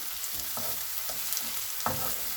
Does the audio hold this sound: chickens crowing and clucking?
no